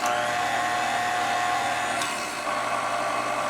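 An older KitchenAid stand mixer motor runs steadily in a lower gear, a loud, even whine with a constant hum, close and alone throughout.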